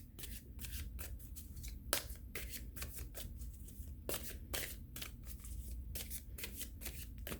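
Soft, close riffling and flicking of tarot cards being handled and shuffled, repeated quick papery bursts in an even rhythm over a quiet background.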